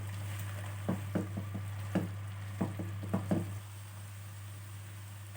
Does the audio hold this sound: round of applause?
no